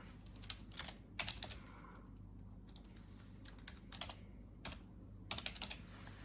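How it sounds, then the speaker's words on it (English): Typing on a computer keyboard comes in quiet, close bursts of rapid key clicks with short pauses between them, over a low steady hum. "you type the other ones you're responsible for"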